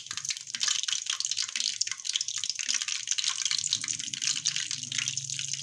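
Coated chicken pieces frying in hot oil for zinger burgers, a dense continuous hiss and crackle of sizzling bubbles, close and steady throughout with no voices.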